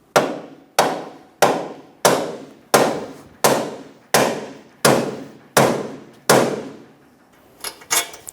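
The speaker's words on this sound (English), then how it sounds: "I'm going to use a soft face hammer to help the ball joint into the knuckle" Ten evenly spaced soft face hammer taps seating a ball joint into a 2012-2020 Chevrolet Sonic knuckle, sharp and solid, about one per second, followed by a few softer knocks and small metallic clatter.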